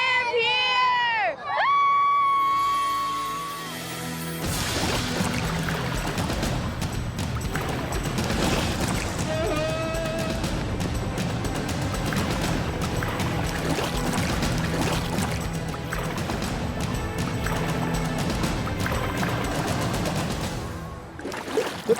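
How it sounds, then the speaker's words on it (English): Water splashing and sloshing around a canoe as it moves, with a lively crowd cheering and voices shouting throughout. "I'm in a boat. It's a canoe."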